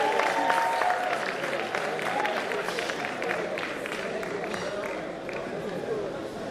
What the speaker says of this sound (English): I think we should clap for dentistry here.